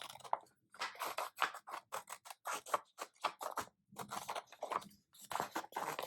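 New scissors cut through paper in a quick, uneven series of crisp snips and scratches, close and fairly quiet, with short pauses between bursts of cutting.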